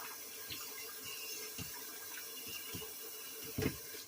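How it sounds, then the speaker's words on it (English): Cold tap water runs steadily into a kitchen sink over shrimp and chicken for a Cantonese stir-fry, a soft continuous splashing hiss with a few brief louder splashes near the end. "I'm gonna run through the cold water"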